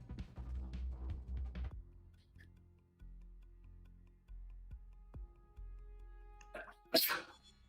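One sharp, close sneeze bursts out near the end, after a stretch of talking and quieter game sounds during a Watch Dogs: Legion stream.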